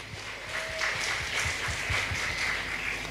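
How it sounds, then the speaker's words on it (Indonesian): An audience at a talk about NU gives a round of applause, a moderate, fairly faint wash of many hands clapping that lasts about three seconds, with no speech over it. "Tepuk tangan untuk NU."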